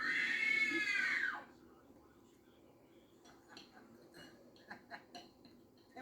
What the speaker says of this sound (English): That was only a simple scream test